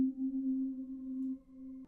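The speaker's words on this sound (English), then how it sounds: "It's called Pad Sweetwater, and it sounds like this." A smooth, sine-like synth pad called Pad Sweetwater holds one steady, sustained low tone with soft upper harmonics, playing alone at moderate volume for about two seconds.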